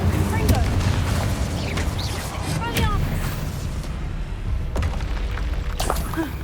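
Hogwarts Legacy spellcasting builds to the Confringo blasting spell, with booming explosive bursts and crackling magic effects over a rumbling battle backdrop while a voice shouts spell names.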